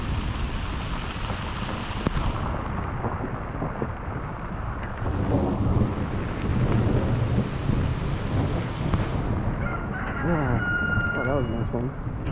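Thunder rumbles and rolls through a heavy thunderstorm with steady rain. The low, loud rumbling swells and fades over several seconds beneath the constant downpour, and faint voices and a bird call come in near the end.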